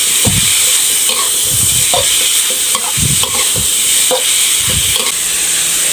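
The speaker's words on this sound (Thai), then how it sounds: "เราก็ใส่กระเทียมเลยครับ กระเทียมที่เราโขกไว้นะครับ แล้วก็คนไปเรื่อยๆนะครับ" Pork stir-fried with pounded garlic in a pan gives a steady loud sizzle broken by rhythmic scraping strokes of stirring, close up and with no voices.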